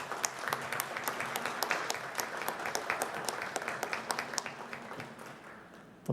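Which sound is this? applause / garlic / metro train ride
applause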